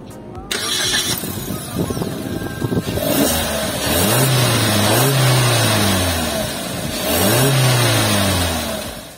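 A Suzuki Ertiga hybrid's engine cranks and fires up, then revs a few times with rising and falling pitch before settling, heard up close.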